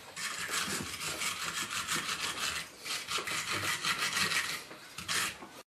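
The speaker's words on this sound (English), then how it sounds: "Use a wire brush to clean any rust or dirt from the motor shaft." A wire brush scrubs rust and dirt off the motor shaft of a Whirlpool washing machine drain pump, a close, harsh rasping in repeated back-and-forth bursts with brief pauses between them.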